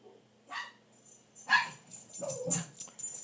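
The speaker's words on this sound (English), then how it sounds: "Sorry for my dog." Pet dog barking indoors: a handful of sharp, close barks and yips in irregular bursts over about three seconds.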